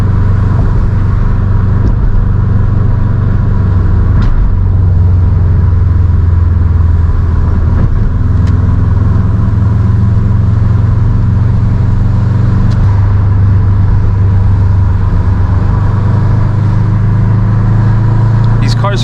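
2007 Subaru WRX STI engine heard from inside while driving, a continuous loud low rumble with gear-change dips and rises in revs, under occasional speech.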